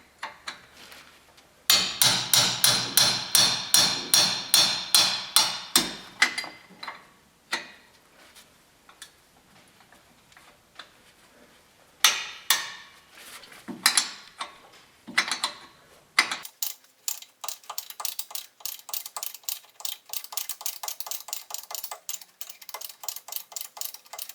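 A hammer repeatedly strikes a hand impact driver fitted with a 15mm socket on a Tahoe's front axle bolt. Sharp metallic blows come in quick bursts, with pauses between them, and end in a faster run of lighter ticking raps, all close and loud.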